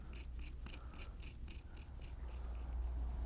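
A blade cuts into leather while a bear head is carved, giving a run of small crisp ticking clicks in quick rhythm. The clicks are faint and close over a low hum.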